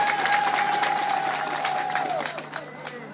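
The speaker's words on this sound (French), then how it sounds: "Je voudrais que vous l'applaudissiez très fort." Applause from a crowd at a political rally in Yakassé, a dense patter of clapping that fades slightly toward the end, with a sustained tone and faint voices underneath.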